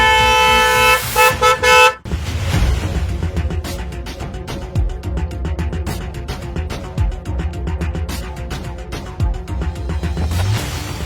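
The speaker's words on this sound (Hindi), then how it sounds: "हॉर्न सुनाई नहीं दे रहा क्या तेरे को?" A car horn gives several short, loud honks in quick succession, followed by a long stretch of busy, clattering road noise.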